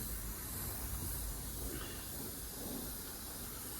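An airbrush spraying paint to weather a Bachmann 1:20 scale caboose model: a steady, close, unbroken hiss of air and paint that holds even throughout with no talking.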